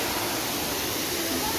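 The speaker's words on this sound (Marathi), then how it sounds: "इकडे वॉटरफॉल आहे छान." Shivthargad's Amrit waterfall, still flowing a month after the monsoon, gives a steady, dense rush of falling water that fills the clip evenly from start to finish.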